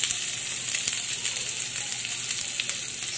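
Onion sizzling in hot oil in a pan after ginger, cooked for a shrimp dish; a dense, steady, close frying crackle runs alone throughout.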